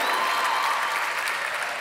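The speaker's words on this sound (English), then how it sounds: "Big round of applause for you." An audience at a live concert on Boston Harbor gives a steady round of applause, dense and even throughout, heard alone without talk.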